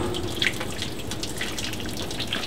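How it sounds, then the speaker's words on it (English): Water runs steadily into a bain marie holding a pâté terrine in a kitchen, a continuous close pour with small splashy bursts and no talk over it. "And if you could add the water."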